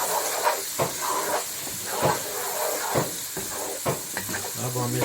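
Spices sizzling in hot oil in a pan for Indian channa curry, a steady bright hiss with scraping stirs and light knocks, close and continuous throughout.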